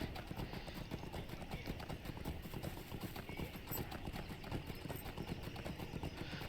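Horse hooves clip-clopping in Lord of the Rings Online, a quiet, fast, steady run of hoofbeats that repeats evenly for the whole stretch.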